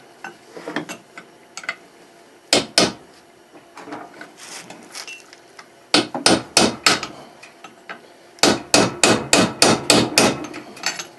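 A cold chisel hammered around a groove in a nut during front suspension work on a Duster restoration: sharp metallic strikes, first scattered singles, then fast close bursts of five to seven blows with short pauses.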